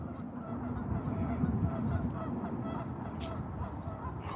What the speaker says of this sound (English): Those are geese. You can hear them honking.